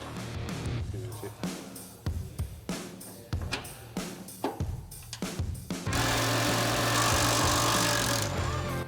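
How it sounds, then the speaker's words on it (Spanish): Pneumatic impact wrench loosening nuts on the chassis of a Mercedes Sprinter 4x4 camper van, with a wrench held on the opposite side; close, loud repeated bursts of rattling hammering, then a sustained steady run of the tool near the end. "aguantar una tuerca por un lado y con la máquina percutora aflojar por el otro"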